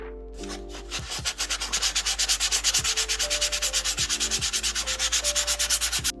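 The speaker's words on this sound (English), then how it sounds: "I am sanding for way too long" Steady rhythmic hand sanding of a wooden cabinet, a loud scratchy rasp repeating in quick even strokes with a few brief pauses.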